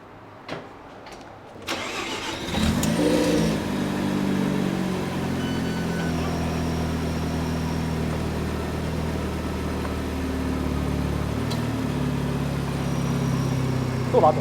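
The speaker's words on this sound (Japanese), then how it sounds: "じゃあエンジンかけてみましょうか" A low-mileage Mazda RX-7 FD3S Type-R with about 60,000 km is started up close: a few faint clicks, then a brief crank before it catches and settles into a steady, loud idle that continues to the end.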